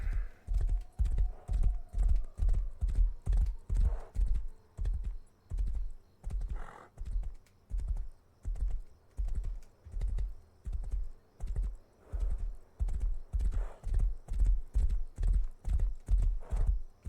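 A galloping horse in a video game drums out continuous, rapid, rhythmic clip-clop hoofbeats, moderately loud and steady, with a faint neigh in the background.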